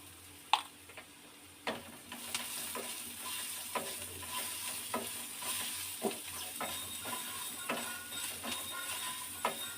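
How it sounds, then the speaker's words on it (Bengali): Onions fry in a pan for a paneer butter masala, a steady low sizzle broken by repeated sharp taps and scrapes of a spatula stirring at an uneven pace, close up. "এবার আমরা এর মধ্যে পেঁয়াজটা ভাজা ভাজা হয়ে গেছে"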